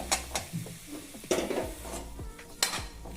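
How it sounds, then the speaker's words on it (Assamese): Chopped vegetables go into spices frying in oil in a pan, with sharp metallic clanks of a spoon or ladle, brief sizzling bursts and stirring scrapes, close and fairly loud. "ইয়াত এতিয়া মই কাটি থোৱা পাচলিখিনি দিম"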